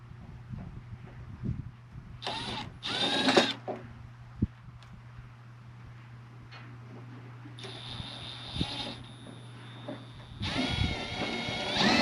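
A power driver drives a bolt while an equipment box is being mounted, giving several short, loud whirring bursts separated by pauses, with a low steady hum and small clanks in between.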